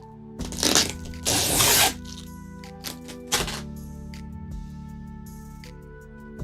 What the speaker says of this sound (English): ASMR paper opening sounds.